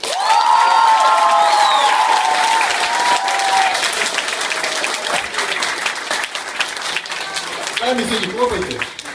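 An audience at a science slam in Barnaul applauds loudly, a sustained wash of clapping with some cheering, while a host talks over it near the start.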